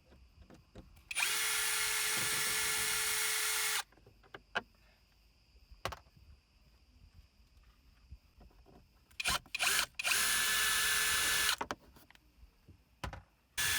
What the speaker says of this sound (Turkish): T30 yani Torx 30 uç ile buradaki 3 vidayı söküyoruz